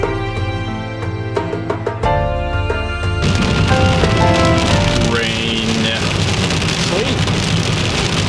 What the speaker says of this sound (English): It is cold and rainy and wet and gooey